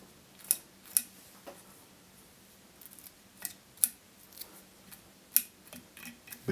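Sharp scissor snips trimming fly-tying material such as CDC on a Nervous Blonde fly, several distinct close, crisp cuts at irregular intervals against a quiet room.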